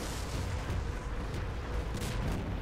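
Artillery fire in the War Front: Turning Point strategy game makes a dense, continuous rumbling barrage of overlapping booms, loud and steady throughout with no voices.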